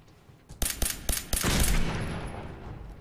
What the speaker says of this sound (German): Ja gut, Preston, ein Schuss noch, komm.